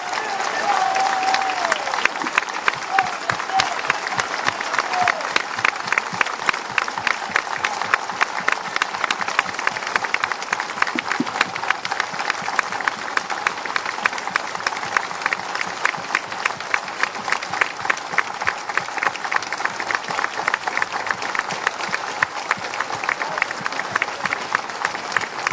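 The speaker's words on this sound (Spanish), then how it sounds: "Por favor, un minuto de aplausos." A crowd at a commemoration of the 1989 FMLN offensive in El Salvador claps for a full minute, a long sustained roar of applause that settles into a fairly rhythmic, unified beat, with occasional voices and a brief whistle early on.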